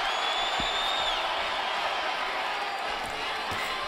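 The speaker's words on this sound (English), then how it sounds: "Crowd gets excited here at the beginning of round number 6 as Crawford comes out" A boxing arena crowd roars and cheers steadily as round six begins, a broad sustained wash of excited voices with a few whistles rising above it.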